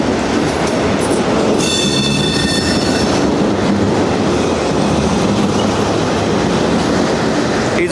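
A train rolls along the rail line heading south from Pembroke, Kentucky toward Hopkinsville: a loud, constant rumble of wheels and cars on track, with a brief high wheel squeal early on.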